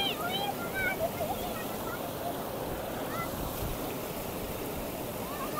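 Steady broadband rush of a waterfall in the Naran Kaghan valley fills the whole stretch, with faint chirps above it.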